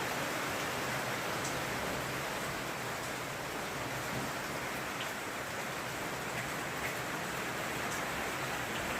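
Rain pours down steadily on a roof full of holes, making a constant, dense hiss with faint scattered drips, soft and unbroken throughout with no talk.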